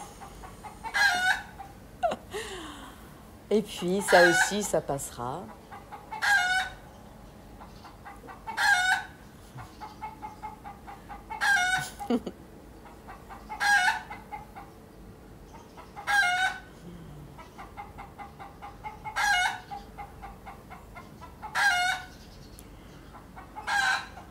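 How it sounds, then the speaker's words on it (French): A hen cackles loudly and close by after laying an egg, in regular repeated bursts of clucking calls with a few short pauses; a soft voice speaks briefly near the start. "Oh là là, cette poule."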